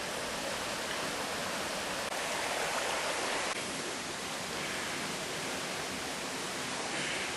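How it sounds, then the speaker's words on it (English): River water rushing steadily over rocks just below Mallyan Spout waterfall on the North York Moors, a dense, even roar that stays loud and close throughout with no talking. "The river on your"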